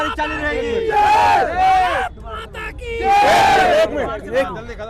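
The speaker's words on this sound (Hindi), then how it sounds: "लाखों की भीड़ देखिए आप" A huge crowd at a Hindu religious procession, the Sanatan Ektaa Yatra, roaring and chanting in loud surging waves of massed voices close by, with two big swells of shouting.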